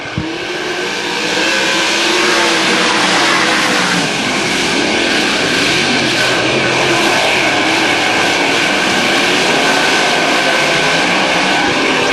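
Race cars roar around a speedway during a heat race, a loud continuous engine drone with layered revving and passing cars throughout.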